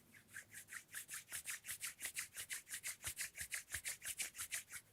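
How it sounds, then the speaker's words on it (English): Palms rubbed together in a hatha yoga class, a steady rhythmic swishing of about four strokes per second, soft and close, with no talking. "Gently rub your palms."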